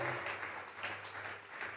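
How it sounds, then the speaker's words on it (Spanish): A church congregation claps as an offering of praise to God during a sermon, giving a soft, steady wash of applause with a low hum beneath. "Vamos a regalarle ofrenda de palmas al Dios de la gloria."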